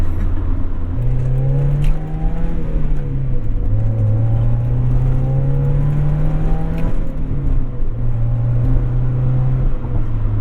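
Mazda Miata NA sports car engine revving, its pitch climbing steadily, dipping, then climbing again as the car shifts through the gears, a loud, close buzzy drone with no talking.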